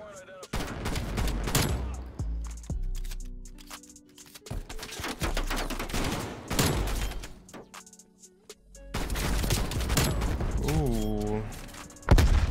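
Gallo SA12 shotgun blasts in a first-person shooter game, repeated sharp booming shots in bursts across the scene, mixed with game effects and someone talking over the gunfire.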